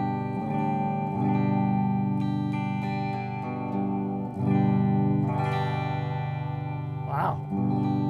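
A Firefly FFLPS electric guitar on its bridge pickup through a clean patch, sustained chords ringing out with several re-strums and lingering tails, played close and fairly loud with no talking.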